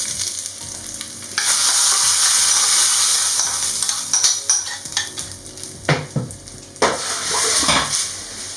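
Hot oil sizzles steadily in a pan as spices temper for sirukeerai kadayal, a Tamil mashed greens dish, with a few metallic scrapes and clinks of stirring toward the end.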